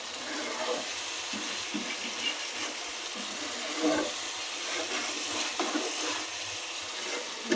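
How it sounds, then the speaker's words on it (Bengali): Water poured into a pot of well-sautéed homemade desi chicken curry so it can boil, a steady rushing splash lasting several seconds without talk. "ভালো করে কষিয়ে এখন পানি দিয়ে দেবো সিদ্ধ হওয়ার জন্য।"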